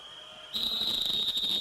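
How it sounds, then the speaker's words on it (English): A referee's whistle blows for half-time at the 1980 European Championship group match between Greece and Czechoslovakia: one long, shrill, sustained tone that sharpens and grows louder as the stadium crowd noise swells beneath it. "As the whistle goes for half-time"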